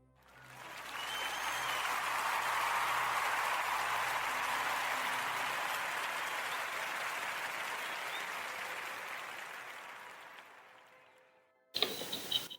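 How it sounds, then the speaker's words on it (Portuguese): A studio audience of a Portuguese radio podcast comedy show bursts into a long, loud round of applause that swells, holds for about ten seconds, then fades away before a brief burst of other sound at the end. "quero pedir a toda a gente uma enorme salva de palmas"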